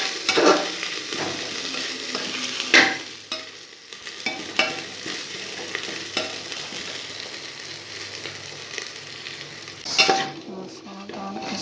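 Masala fries and is stirred in a pan, sizzling steadily close up with intermittent scraping and clinking of a spoon against the metal, with no one speaking.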